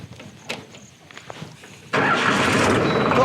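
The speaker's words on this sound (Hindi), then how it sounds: "तो आवाज़ कुछ इतना करती है ट्रैक्टर, अगर आप इसको न्यूट्रल में खड़ा रखते हैं तब" A Solis 4415 44 hp tractor idles in neutral, the engine suddenly jumping from quiet background noise to a steady, loud, close running rumble midway through.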